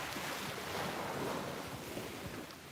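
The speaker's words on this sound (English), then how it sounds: "I feel so guilty sometimes talking over the waves." Surf breaks and rushes up a beach in a steady, close wash of noise, mixed with gusts of wind noise on the microphone; no one speaks.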